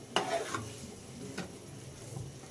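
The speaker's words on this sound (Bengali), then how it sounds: "তো ঝোল দিয়ে আবার একটা নাড়াচাড়া করে দিলাম।" Spoon stirring leafy greens curry in a pan just after broth is poured in, with a low sizzle beneath a few scraping strokes near the start, close and fairly quiet, no talking.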